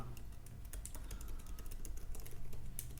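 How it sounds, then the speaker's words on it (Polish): Fast typing on a computer keyboard while entering an example email address during account registration, with dense, irregular key clicks running steadily and close throughout. "Wpiszę przykładowego maila."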